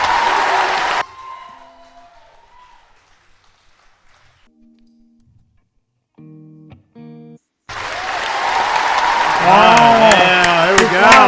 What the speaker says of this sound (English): You're allowed to clap. You can clap for yourself.